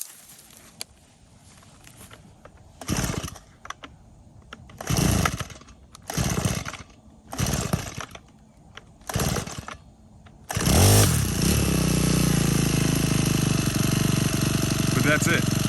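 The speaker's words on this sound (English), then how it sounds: "this is the 4-stroke weed eater I was telling you guys about. That's super quiet" A quiet four-stroke weed eater is started with several bursts, then runs at a steady, moderate hum for about five seconds. Before it starts, a voice talks quietly nearby.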